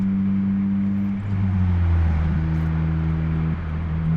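Manual Acura TSX sedan cruising in traffic, a steady low engine drone from inside the cabin with pitch shifts as the revs change around a gear change, constant road noise and no talking.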